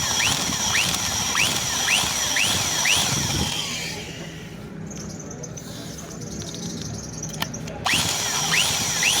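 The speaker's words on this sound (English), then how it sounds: "let's drill with 10mm drilling bits" A power drill bores into a broken 12mm bolt with a 10mm bit, its whine rising and falling in repeated pulses before cutting out midway, then resuming near the end; low rumble underneath.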